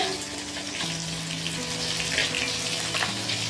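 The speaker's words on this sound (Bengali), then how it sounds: "আর এদিকে চারাপোনা মাছ এনেছে বন্ধুরা আমি ভাজতে লেগেছি" Small fingerling carp fry in a pan with a steady, close sizzle and crackle running throughout, a low hum beneath it and no talk.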